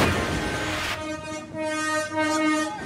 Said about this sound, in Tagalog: Dinig sa video ang pagbusina ng paparating na tren ng Philippine National Railway sa Barangay Bukal sa Calamba, Laguna.